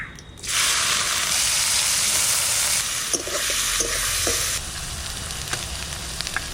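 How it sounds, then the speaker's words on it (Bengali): Whole cumin, garam masala, four dried chillies and onion drop into hot oil, bursting into a loud, steady sizzle up close that eases after a few seconds, with light stirring clinks and scrapes, no talk. "গোটা জিরে আর গরম মশলা চারটে শুকনো লঙ্কা পেঁয়াজ দিয়ে দিচ্ছি"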